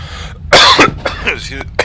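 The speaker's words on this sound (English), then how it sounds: "It's always a good way to start a video with a nice loud cough." One loud, close cough bursts out, followed by a few short throat-clearing rasps from the same man.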